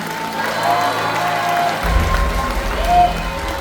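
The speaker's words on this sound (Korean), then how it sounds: "뜨거운 박수와 함성 부탁드립니다" A crowd at a Korean party convention in a convention hall gives sustained applause mixed with cheering. The sound is a dense, steady roar heard from within the audience, and it swells slightly toward the end.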